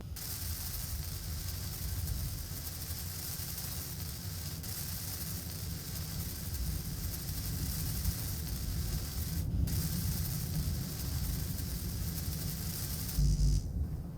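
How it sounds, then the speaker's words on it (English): Steady hissing, spray-like welding noise while a ship is built in Space Engineers, a constant broadband wash at low level that carries on for the whole stretch, with a few brief clicks and bumps. "I'm going to start welding this thing up for us."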